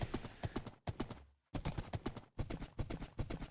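Horse hooves clip-clopping in the Minecraft video game, a brisk regular run of hoof clops with one brief pause partway through, loud and close, with no talk.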